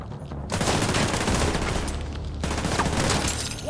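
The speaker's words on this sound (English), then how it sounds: "Watch that turret!" Sustained turret gunfire in the video game Far Cry Primal, a dense, continuous burst of rapid shots lasting throughout, close and loud, with a brief dip midway before the firing resumes.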